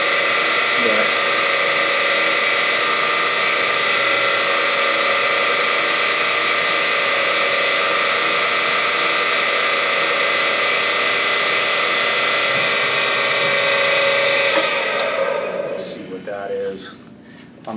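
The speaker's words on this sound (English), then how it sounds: "hate drilling on this" A power drill whines steadily at close range for about fifteen seconds, boring into a 454 engine crankshaft for balancing, a constant high-pitched grinding drone, then winds down and stops.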